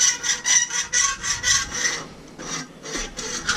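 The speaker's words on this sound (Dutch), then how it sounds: "Mensen gebruiken de zaag namelijk zo" A hand saw cuts through wood in steady, rasping back-and-forth strokes, close and fairly loud, with a brief pause partway through and no talking.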